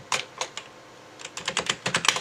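Typing on an old computer keyboard during MS-DOS setup on a beige PC build: a few separate clacking keystrokes, a short pause, then a quicker burst of clicks, close and clear with no talk.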